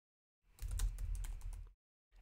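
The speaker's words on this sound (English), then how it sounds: "we can simply type" Rapid typing on a computer keyboard, a dense burst of clicky keystrokes lasting about a second, then a brief pause and a few more keys, close and clear with no voice.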